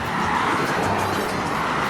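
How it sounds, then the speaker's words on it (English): Steady, dense road traffic roars from busy Palm Parkway beside a waterside housing development, a continuous nearby wash of passing cars with no pauses. "Still got a lot of traffic noise though."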